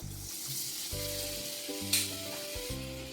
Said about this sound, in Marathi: फास्ट गॅसवर हा व्यवस्थित असं तळून घ्यायचं आहे